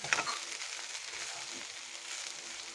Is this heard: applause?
no